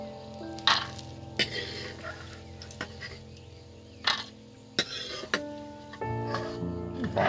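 Peanuts frying in a pan, a continuous crackling sizzle with sharp pops and stirring clatters scattered across it, close and fairly quiet, with no talk.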